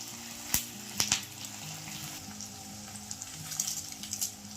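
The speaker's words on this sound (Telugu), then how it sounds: "ఇప్పుడు ఉల్లిపాయ ముక్కలు, పచ్చిమిర్చి ముక్కలు, వెల్లుల్లి రెమ్మలు, కరివేపాకు ఒకసారి మంచిగా కలుపుకోవాలి." Chopped onion, green chili, garlic cloves and curry leaves sizzle softly in a pan, with a few sharp spatula knocks and scraping stirs nearby and no voices.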